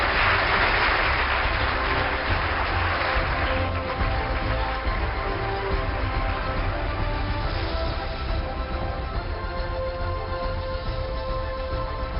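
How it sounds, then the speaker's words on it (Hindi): A large audience at an awards event gives loud, sustained applause to welcome a guest on stage, a dense wall of clapping that fades slightly over twelve seconds. "एक बार जोरदार तालियों से स्वागत कीजिए"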